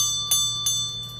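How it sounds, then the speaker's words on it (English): A small bell is rung gently twice, each soft strike followed by a clear, sustained ringing tone that lingers quietly, with no talk. "I'm going to be gentle with my bell"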